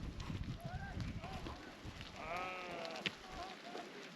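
Several sheep bleat in short wavering calls, some close and some farther off, over a steady outdoor background with faint rustling.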